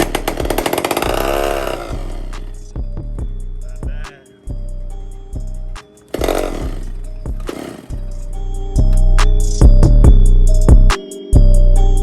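An X6 pocket bike engine, freshly fitted with a new pulley and spark plugs, is pulled over in a series of short bursts, then catches and revs loudly and raggedly in close range with brief cutouts, no talking.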